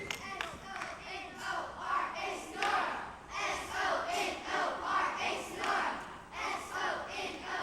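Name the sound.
children performing a class cheer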